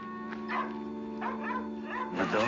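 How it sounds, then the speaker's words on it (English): A dog in pain yelps and whimpers in several short, high bursts, close and fairly loud, with a faint background tone. "My dog is in pain."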